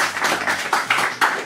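Audience clapping at a lecture event, a brief burst of several distinct hand claps in an uneven rhythm, close and fairly loud.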